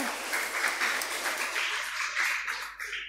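A church congregation applauding during a homily, a dense run of clapping that rises and falls in waves and tapers off toward the end.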